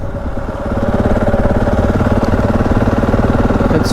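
A motorcycle engine drones steadily and loudly while being ridden on a road during a touring trip, a constant close mechanical hum with rapid pulsing and no talk.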